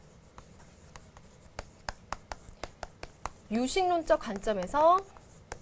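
Pen or chalk writing on a board during a lecture gives a series of short, evenly spaced scratchy strokes, then a person speaks over a few more strokes.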